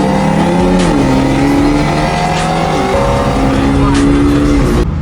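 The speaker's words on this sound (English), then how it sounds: "I'm hearing his burbles and intake." A Hyundai Elantra N engine runs loudly close by, revving up and down in stepped shifts with a throaty, burbling exhaust tone and intake noise that dominate the clip.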